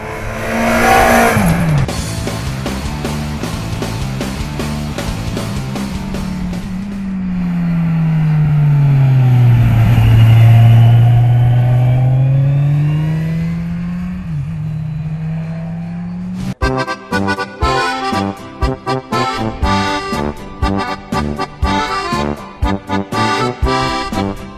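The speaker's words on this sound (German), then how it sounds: "Ähnlich wie die nackte Z1000 haben wir jetzt einen schönen," A Kawasaki Z1000SX motorcycle under way gives a deep, bassy intake and engine note that swells and dips in pitch, then breaks into a loud, choppy, pulsing run of throttle bursts.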